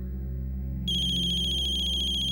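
A phone ringtone starts partway through and sustains as a steady, bright electronic tone over a low musical drone, close and clear, with no voices.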